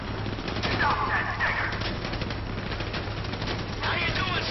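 Rapid gunfire bursts from the video game GTA V, a steady crackle of automatic fire that runs through the whole moment at mid distance, with a low engine-like hum beneath and some game voices mixed in.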